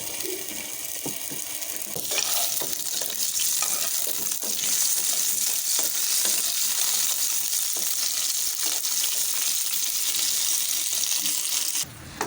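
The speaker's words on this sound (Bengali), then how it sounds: "তেল গরম হয়ে গেছে। এখন এর মধ্যে দিয়ে দিচ্ছি আলু।" Potato pieces fry in hot oil in a pan for a chicken kacchi biryani, a close, continuous sizzle with crackles and occasional spoon clinks, rising in intensity after the first couple of seconds.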